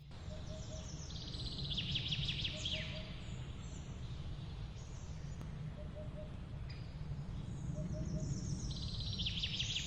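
Faint bird calls sound over a steady outdoor hush beside a mountain reservoir in the Romanian highlands, with short chirps recurring at a distance.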